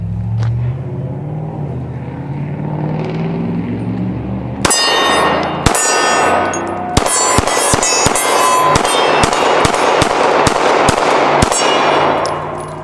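Glock 19 pistol shots ringing off steel targets at an outdoor range, a sharp sequence of loud cracks with metallic clangs, first spaced then in a rapid string of about a dozen evenly paced shots, close and very loud.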